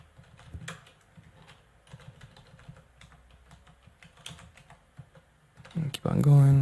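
Computer keyboard keys tapped in an irregular run of light clicks, including spacebar and plus presses, close and fairly soft, before a louder burst of voice near the end.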